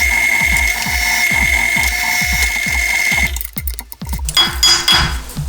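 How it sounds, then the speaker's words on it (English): A drill bores the last hole through a metal tail light guard, with PB Blaster as cutting fluid: a steady whine over quick rhythmic ticking, then a rougher, uneven rattle near the end, close and fairly loud. "Let's get that last hole drilled."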